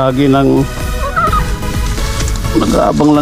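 Farm fowl such as turkeys and geese gobble and honk in a close, noisy cluster as they wait to be fed, with overlapping calls throughout.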